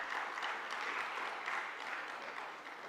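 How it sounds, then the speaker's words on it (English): A lecture audience at the Gyan Sarovar education wing event in Mt. Abu claps steadily in a dense, sustained round of applause that holds at an even level without pause. "let's give a warm round of applause to our speaker"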